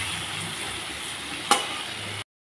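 Koi fish fry in oil seasoned with turmeric and salt, giving a steady, soft sizzle with a single brief spatter pop partway through, then the sound cuts off abruptly.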